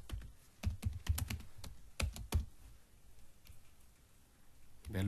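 Typing on a computer keyboard while writing C++ code: quick bursts of close, crisp key clicks, then a quieter pause and a final few taps, with a faint voice briefly present.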